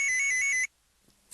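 A bright electronic ringtone trills in a steady repeating pattern for over half a second, then cuts off abruptly into near silence before a faint noise returns.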